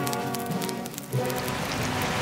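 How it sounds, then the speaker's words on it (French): Steady, dense rain pouring down, a constant hiss with scattered drops pattering on a surface, no voices. "Presque aussitôt, il se mit à pleuvoir à verse"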